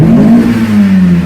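Revving engine of a Mazda Miata fitted with a custom intake, held in neutral; a steady, loud mid-pitched drone with a slight fall in pitch, sounding close and continuous.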